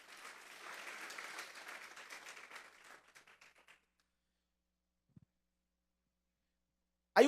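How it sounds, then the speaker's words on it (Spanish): A church congregation applauds, a sustained wash of clapping that thins out and fades over a few seconds, followed by near silence and a brief knock. "Vamos a darle un fuerte aplauso pues al Señor."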